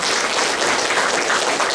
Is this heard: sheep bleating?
no